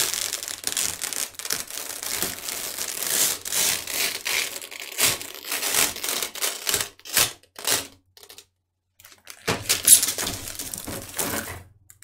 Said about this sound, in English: let's peel off the cellophane so you can see it properly